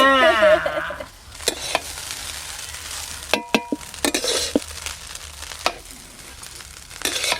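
Egg rice being stirred and mixed in a pan, with repeated scraping and clanking strokes of a utensil over a soft sizzle, close and without talk.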